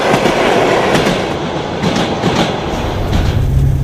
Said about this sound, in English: The train is now heading south